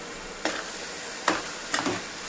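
Coriander rice stirred in a pan, with three separate scraping strokes of a spoon against the pan over a steady low sizzle and no talking.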